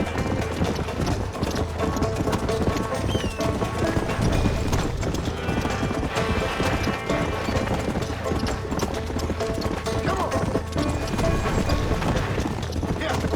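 A war horse gallops in the Western video game Red Dead Redemption, rapid rhythmic hoofbeats drumming continuously and loudly alongside other riders, with voices heard over the hoofbeats.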